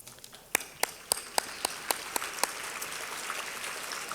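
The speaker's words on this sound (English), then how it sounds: "we give you a round of applause" Audience applause at a Power of Pink luncheon in 2019: a run of distinct, crisp claps at first, then merging into a steady wash of clapping that holds to the end.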